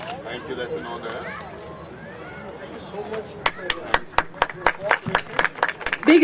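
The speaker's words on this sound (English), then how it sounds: "And big round of applause, please." Applause erupts at a Rotary International District 3150 celebration in a palace hall, starting after murmuring crowd babble and building into several seconds of sharp, close clapping bursts with voices still chatting underneath.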